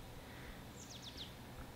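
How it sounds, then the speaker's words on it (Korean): A small burst of quick, faint bird chirps sounds outdoors, a few rapid notes over a constant soft background hiss, with no talk. "지금 마이크에 새소리 같은 게 들어갈지는 모르겠는데"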